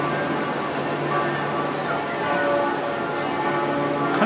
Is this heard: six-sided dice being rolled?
no